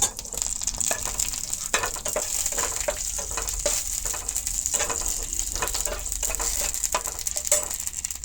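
Dried red chilies, bay leaf, cinnamon, cardamom and five-spice seeds frying in hot oil for a Bengali mango pickle, a steady close crackling sizzle with frequent rhythmic stirring scrapes throughout, no speech.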